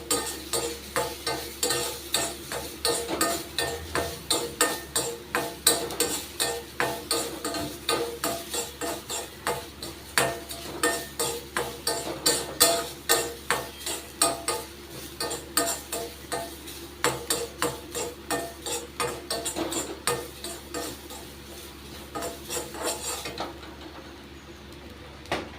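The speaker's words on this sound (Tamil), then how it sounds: "அதான் ட்ரை ஆகணும் இந்த கோகனட், அந்த அளவுக்கு நீங்கள் வறுத்து எடுத்துக்கணும்." Grated coconut dry-roasting in a pan for Udupi-style idli podi, stirred steadily with a spatula that scrapes the pan in a fast, repeated rhythm, loud and close, with no talk.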